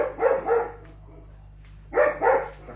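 A dog barks two pairs of sharp barks, close and fairly loud, with a short quiet gap between the pairs.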